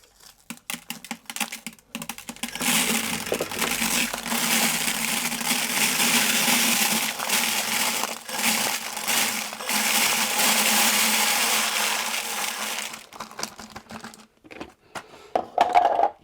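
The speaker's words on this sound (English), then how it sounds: "Kilo stainless steel pins. That's just to agitate everything as it's going round." Stainless steel pins, about a kilo, churning inside a wet ammo tumbler with spent, deprimed .357 Magnum brass, giving a steady dense rattling and grinding that runs loud and continuous for most of the stretch before trailing off into scattered clinks.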